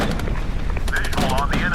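Gunfire from troops in the real-time strategy war game Regiments: a rapid string of sharp, loud shots crackling over a dense battle din, with a high whine rising briefly near the end.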